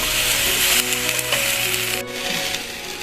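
Okra roasting in a pan for a pounded okra chutney gives a steady close sizzle and frying crackle, with scraping stir strokes and faint clicks scattered throughout.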